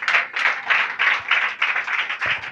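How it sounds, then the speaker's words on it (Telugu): A church congregation claps hands together in a steady, rhythmic burst of many hands, fairly loud and close, with no talk over it. "లేదండి ఆయన వల్ల వార్త నేను ఆశీర్వదించబడుతున్నాను అన్న వాళ్ళు ఇప్పుడు చప్పట్లు కొట్టండి."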